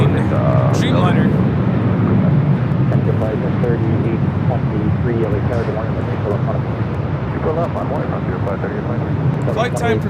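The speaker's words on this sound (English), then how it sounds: "our next arrival, on the Nippon Airways 126 coming in from Tokyo, Haneda" All Nippon Airways Boeing 787-9 Dreamliner, five years old, arriving at LAX from Tokyo Haneda: a steady broad jet roar fills the background while someone talks over it almost throughout.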